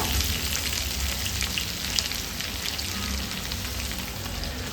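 Brinjal fries in hot ghee with a dense, continuous crackling sizzle, close and steady throughout with no voices.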